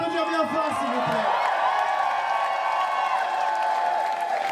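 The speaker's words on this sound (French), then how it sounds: "est-ce qu'on peut l'applaudir bien fort, s'il vous plaît?" A drag show finale audience applauds and cheers loudly, a dense continuous wash of clapping and whoops with a singing or sustained voice tone over it near the start.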